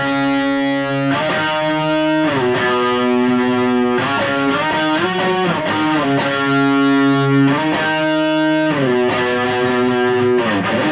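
Electric guitar through heavy distortion plays the octave riff from a song. Loud sustained two-note octaves move up and down in a steady rhythmic phrase, with sharp picked attacks and no voice.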